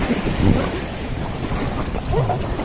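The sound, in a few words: river rapids waves while rafting at Bogamati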